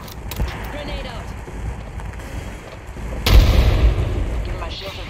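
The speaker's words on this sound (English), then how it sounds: "Incoming frag." A frag grenade detonates in the Apex Legends video game, a sudden loud boom with a rumbling tail that stands out partway through the clip, after a stretch of game noise and faint voice chatter.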